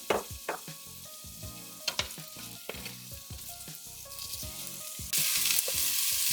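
Onion sautéing in olive oil in a pan for a vegetable soup, a low sizzle broken by sharp utensil taps and clinks, with the frying growing louder and hissier near the end.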